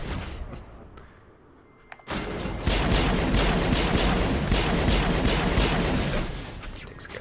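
Gunfire in the video game Mass Effect, a dense sustained barrage of rapid shots erupting after a quieter lead-in with a couple of sharp clicks, loud and continuous for several seconds.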